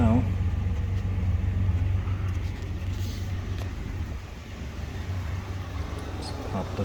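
A 1991 Chevy S10 truck engine idles with a steady low rumble, heard up close with the hood raised. A voice talks over part of it.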